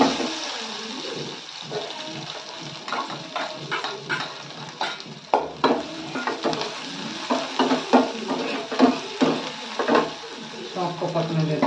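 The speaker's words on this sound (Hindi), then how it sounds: "थोड़ी सी वैसी मिर्च है, तीखे वाली, और ये क्या है, धनिया, तीनों चीज़ें भून देते हैं" Hot oil in a pan sizzles and crackles steadily while hot chili and coriander fry for a dal tempering, with stirring clatter and someone talking over the cooking throughout.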